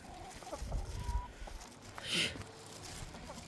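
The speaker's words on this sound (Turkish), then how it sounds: "Aha buna da tavuk. Kok kok kok deyip duruyorlar." Chickens cluck and murmur nearby in short, irregular bursts, with soft outdoor background noise around them.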